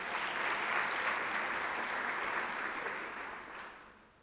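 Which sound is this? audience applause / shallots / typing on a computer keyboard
audience applause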